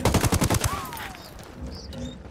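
Rapid burst of automatic gunfire in Ghost Recon Wildlands at a checkpoint, a quick string of loud close shots over about half a second, then a fading echo and quiet ambience.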